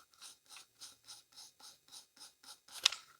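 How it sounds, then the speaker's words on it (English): Short blue bristles on a Prolux EBK250 vacuum brush roll rubbed up close, about nine soft, even ratcheting brushes at a steady pace, ending in one louder, sharper stroke. "And then here's the sound of the shorter blue bristles."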